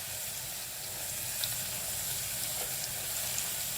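Ground Chettinad masala paste fries in hot oil for a chicken kuzhambu, giving a steady, soft, close sizzle with faint crackles and no voices.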